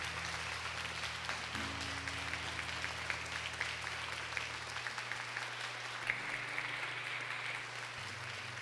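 A crowd at a Catholic religious gathering honoring Our Lady of Fátima applauds loudly and steadily throughout. A low sustained tone hums beneath the dense clapping.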